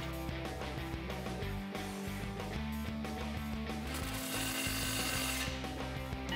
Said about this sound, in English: Grab your 10 socket and wrench and tighten down the clamp.